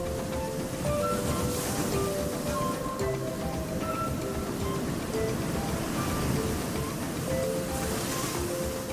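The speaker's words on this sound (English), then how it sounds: "the constant sound of waves crashing far" Ocean waves crashing far below coastal cliffs on a Western Cape, South Africa walking trail, heard as a steady, distant surf roar mixed with some wind, with no voices.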